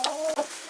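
A farm hen gives a brief close cluck, two quick throaty notes in under a second, with no other sounds around it.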